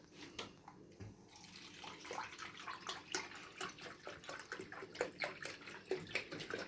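Milk poured into a bowl while making chocolate truffles, a steady soft liquid splashing and gurgling that runs throughout at moderate, close range.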